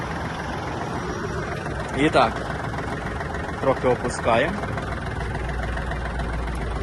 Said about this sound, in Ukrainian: а двигун хай трохи прогрівається